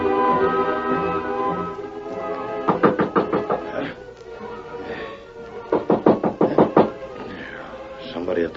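Two bursts of sharp knocks on a door in a 1942 radio drama, each a quick run of five or six raps, separated by a pause, with low voices speaking between them.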